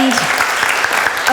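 Brief burst of audience applause at an academy writing event, dense clapping filling the short moment with a voice briefly audible.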